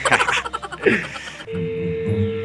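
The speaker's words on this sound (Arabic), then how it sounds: "حد بيرن على ابوي، اعمل ايه؟ اكنسل." A phone rings with an incoming call: a steady, even ringing tone starts after a short stretch of voices and holds to the end, close and clear.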